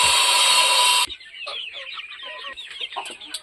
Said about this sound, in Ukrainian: Ось, курочка ряба наша. Це кохінкінка.